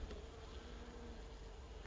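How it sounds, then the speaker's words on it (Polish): A steady, faint buzzing of many honeybees hums continuously around a nucleus hive, with no voices. "Pszczół trochę jest w odkładzie."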